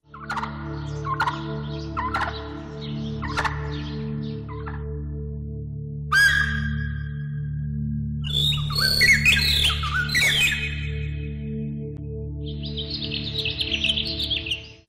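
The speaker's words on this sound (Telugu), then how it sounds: "నారాయణ పక్షులు ఇలా వివిధ రకాలైన పక్షులు గూళ్లు ఏర్పాటు చేసుకున్నాయి" Migratory waterbirds calling at Kolleru Lake, with a dense, continuous chorus of honking and squawking calls, some close and loud, over a steady low background hum.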